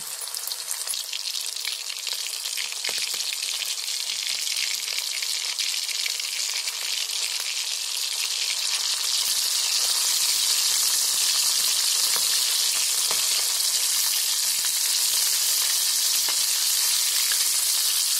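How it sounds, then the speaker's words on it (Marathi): Prawns fry in hot oil in a pan with a loud, dense, continuous sizzle that swells slightly louder partway through, heard up close without voices. "आपण पप्पू याच्यामध्ये अशी कोलंबी सोडायची, पण दोन दोनच फ्राय करून घेऊया"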